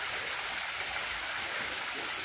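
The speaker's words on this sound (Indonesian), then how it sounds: "Air terjun Temanten." Temanten waterfall at a hidden forest spot, a steady loud rush of falling water filling the whole clip with no pauses and no voices.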